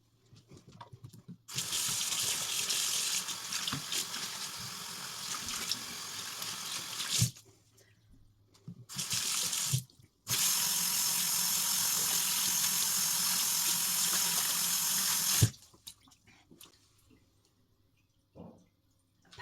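Running tap water rinses a synthetic wig in long, steady splashing bursts, with a brief pause in the middle and a few quiet drips and handling sounds between them.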